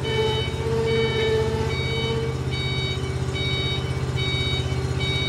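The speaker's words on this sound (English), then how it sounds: "That beep is telling you that your emergency, your e-brake is on." Repeated electronic parking brake warning beeps sound in an even rhythm over the low, steady rumble of an idling 2024 RA12H machine's engine.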